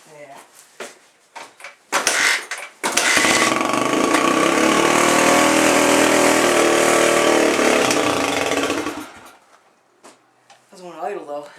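A cold Suzuki DRZ125 motorcycle engine starts after a few sputtering attempts, then runs loud and steady for several seconds before dying back down, with people talking around it.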